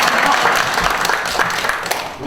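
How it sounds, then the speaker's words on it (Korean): Applause from an audience at a Korean community-building network talk session, a steady dense patter of many hands clapping close by with a few voices mixed in. "박수 쳐줘 빨리"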